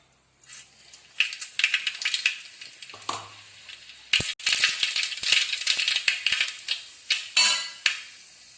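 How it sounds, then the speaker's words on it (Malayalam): Mustard seeds splutter and pop in hot oil in a cheenachatti, a steady run of sharp crackles and sizzling bursts, close and loud, with a brief low clank of the pan partway through and no voices. "ഇനി കടുകിട്ട് പൊട്ടിക്കുക"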